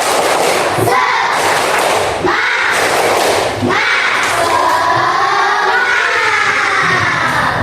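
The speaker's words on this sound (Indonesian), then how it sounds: "untuk menambah semangat kita tepuk semangat dulu ya" A school class performs the rhythmic 'tepuk semangat' clapping chant, a group of children clapping in unison and shouting together in bursts, loud and close with thumping claps and cheering voices.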